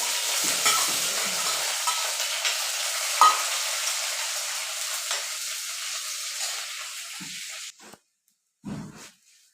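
Onions, shallots and green chilies sizzle steadily in a hot pan for most of the stretch, with occasional stirring scrapes, before the frying cuts off near the end and a couple of brief clunks follow.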